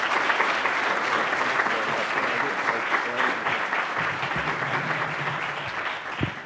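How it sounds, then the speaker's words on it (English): A conference audience gives a warm, sustained round of applause to welcome a senator, a dense steady clapping that carries on for several seconds before tapering slightly. "could I ask you with your applause to please welcome and thank Senator Cory Gardner for being with us"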